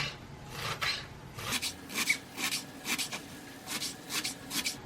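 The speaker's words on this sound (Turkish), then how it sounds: "Maydanozları ince ince kıyıyorum." Fresh parsley chopped finely with a knife on a board, a steady run of crisp, rhythmic rasping strokes, about two per second, close and fairly loud with no talk.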